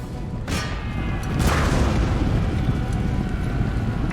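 Cannon fire in the Empire: Total War strategy game, two heavy booms about a second apart followed by a rumbling battle roar that lingers, loud and full with no voices.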